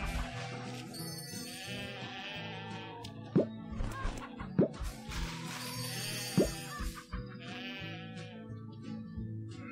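Goats bleat on a farm in the Hay Day game, several wavering calls over cheerful background music, with sharp plopping clicks scattered in between.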